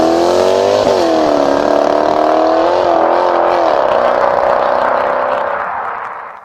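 A Jaguar XKR X150 with a 4.2-litre supercharged V8 revs hard, its loud close engine note climbing and settling through several throttle blips before fading out at the end; no voices are heard.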